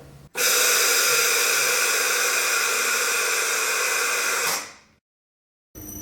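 A JEM wheel polishing machine runs in its high-gloss polish setting, giving a loud, steady, broadband whirring hiss that holds for about four seconds, then winds down quickly to silence before starting again briefly.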